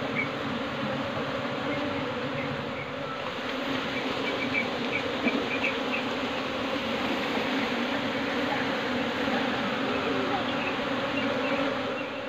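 A honey bee colony buzzes around a hive box in a steady, dense, close drone that holds throughout, with no clear voices over it.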